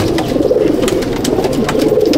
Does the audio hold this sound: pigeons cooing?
yes